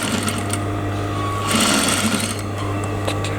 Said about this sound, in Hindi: तो इस तरह से हम स्ट्रेट में सिलाई लगाएंगे।